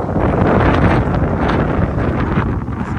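Strong wind buffeting the microphone, a loud continuous roar with gusty rumble and no speech.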